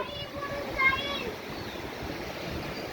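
Swollen river floodwater rushing over submerged stone washing steps, a steady broadband wash of flowing water throughout, with a brief splash near the middle.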